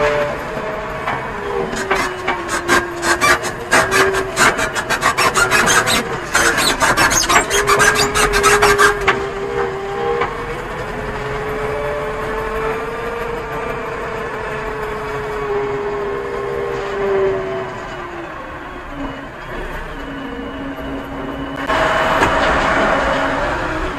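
A JCB 3DX backhoe loader gently pushes soil at a new building site, its diesel engine droning steadily throughout while bursts of rasping, scraping grit from the bucket come and go in the first half and again near the end.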